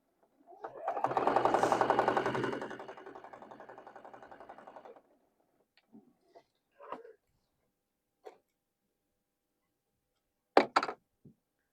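Sewing machine stitching quilt seams, a steady whirring run of a few seconds that tapers off, followed by scattered quiet clicks and knocks as the fabric is handled, close and fairly soft.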